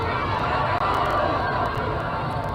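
A crowd in a played recording reacts with a dense, steady wash of murmuring and chatter, fairly loud and continuous with no clear breaks.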